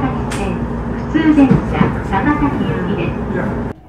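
A local train running from Ueno toward Niigata rumbles steadily from inside the car, with a few brief squealing tones partway through before the sound cuts off.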